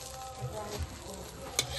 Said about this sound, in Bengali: এদিকে জেঠু বেগুন ভাজছে বেগুন ভাজা